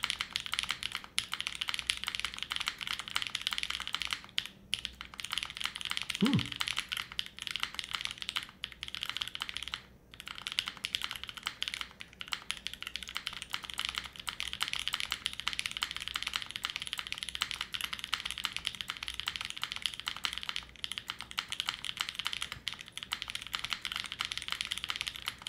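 An O-ring mounted 60% mechanical keyboard is typed on steadily and close by, giving a dense, continuous run of deep, muted keystroke clacks with occasional brief pauses.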